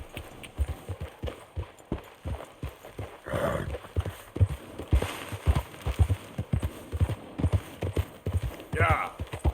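Steady hoofbeats of a horse galloping in Red Dead Redemption 2 thud in a quick, even rhythm throughout, close and clear, while a brief voice cuts in twice.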